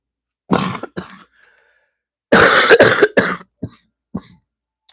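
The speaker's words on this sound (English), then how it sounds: "Y'all can't get rid of this cough." Several harsh coughs, a couple of separate bursts followed by a longer cluster, with brief throat-clearing sounds and silence between them.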